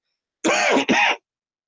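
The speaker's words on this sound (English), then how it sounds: "I'm going to apologize if there's some infrequent coughing and stuff" A single close throat clearing, two quick rough bursts back to back, with silence before and after.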